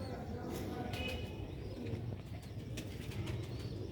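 Sialkoti rooftop pigeons coo in low repeated throaty calls, with occasional wing flutters and rustling nearby, under a steady background murmur.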